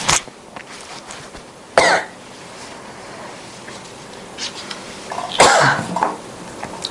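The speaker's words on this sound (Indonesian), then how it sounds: "Oke, batuk dan minum dulu." Coughing, two sharp bursts with a few softer throat sounds in between, close and fairly clear in a quiet room.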